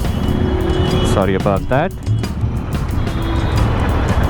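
An aftermarket exhaust on a motorcycle growls loudly in traffic with a rising, falling rev in the middle, under a short spoken exchange and steady road noise.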